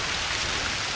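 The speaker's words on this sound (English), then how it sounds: "And there's that Amazon downpour." Heavy Amazon jungle rain pours at night, a dense, steady roar of drops beating on surfaces. It holds constant and close, and no distinct thunder stands out.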